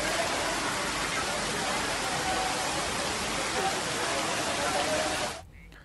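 Heavy rain pours down in Nathdwara, Rajsamand, Rajasthan, as a loud, dense, continuous hiss of drops on surfaces that cuts off abruptly near the end.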